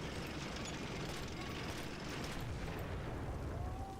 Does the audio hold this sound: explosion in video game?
yes